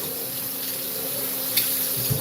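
A household tap runs steadily with a constant watery hiss, alone, with a small knock or clatter near the end.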